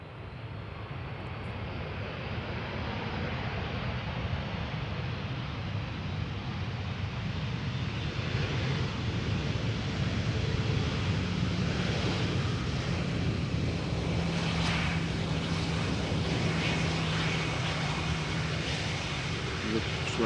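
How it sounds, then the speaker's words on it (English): A Finnair Airbus A321 from Helsinki rolls out on the runway after touchdown at Amsterdam Schiphol on a misty day, a steady, loud broadband jet roar and rumble that holds for the whole stretch, mixed with some wind noise. "next up is an A321 from Finnair arriving from Helsinki"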